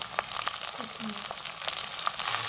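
Sliced onions frying in a pan for a village-style horse gram soup, with a steady close sizzle and a few light stirring clicks throughout.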